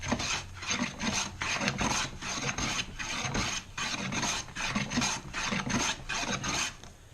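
Hand plane taking very thin, fine shavings off a piece of cherry wood, a steady series of rasping strokes in a fairly close, moderately loud rhythm, one after another with short gaps, no talking.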